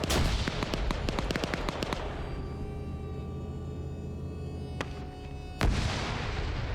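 Gunfire in a video game match, sharp rapid shots rattling through the first two seconds, then a quieter stretch with a steady engine-like hum and a couple of isolated loud cracks near the end.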